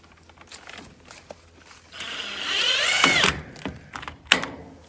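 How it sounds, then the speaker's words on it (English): A power driver sinks a screw to fasten a piece down, a rising whir of about a second and a half after scattered handling knocks, followed by a few clunks. "And screw it down."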